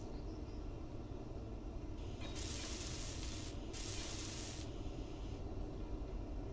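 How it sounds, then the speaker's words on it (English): In the game Space Engineers, a welder builds up blocks with a hissing, sizzling rasp that swells in two bursts over a constant low rumble of engine or ambient drone. "may as well just weld these up"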